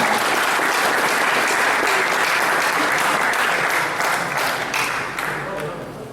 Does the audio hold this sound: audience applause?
yes